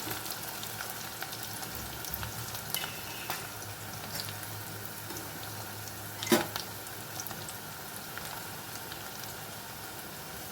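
Crushed garlic and onion fry in oil, a soft steady sizzle with occasional light pops and one brief louder clatter, heard close with no talk.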